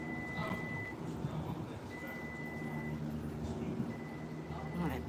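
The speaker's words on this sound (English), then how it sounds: "that beeping's getting louder" A vehicle's reversing beep repeats at a slow steady pace, moderately distant, over constant engine rumble and traffic noise.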